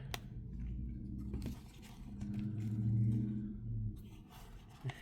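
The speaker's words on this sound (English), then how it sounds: "Hear that idiot truck outside" A truck outside rumbles low and steady, swelling to a louder drone mid-clip before fading, heard from indoors beneath light handling clatter and rustling.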